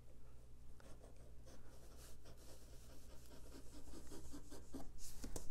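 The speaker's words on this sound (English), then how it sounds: "But for beginners, we can actually draw a stitch line if we'd like." A stitch line being drawn on fabric for a straight dart: a continuous soft scratching rub of a marker or chalk, close and steady, swelling slightly near the end.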